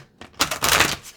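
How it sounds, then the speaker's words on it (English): A quick, close riffle of oracle cards being shuffled: a brief, dense papery burst that swells and fades within about a second. "let's do one more shuffle"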